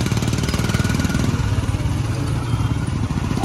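A tempo auto-rickshaw engine runs steadily during a ride in Vrindavan, giving a loud, close, continuous throbbing chug with a rapid even pulse and rattling clatter throughout.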